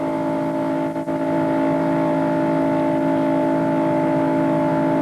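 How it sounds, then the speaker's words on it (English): A NASCAR Winston Cup race car in the 1993 Daytona 500, heard from its roof camera, runs wide open with a loud, steady droning engine tone that holds without a lift, apart from one brief dip. "You could hear that motor just kept purring wide open."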